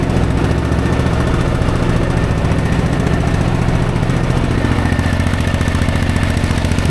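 A sampan boat's engine off Cox's Bazar chugs loudly and steadily with a fast, even mechanical knock as the boat heads out to sea, close and unbroken with no voices.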